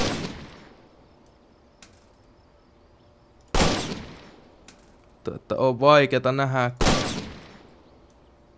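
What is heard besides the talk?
gunfire in Finnish Army Simulator video game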